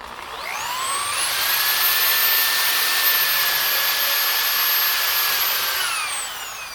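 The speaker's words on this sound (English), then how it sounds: "you're just going to stick the drill bit in the hole and drill." A power drill boring a pocket hole through a Kreg jig whirs up to a high steady whine, holds for several seconds, then winds down; no one speaks.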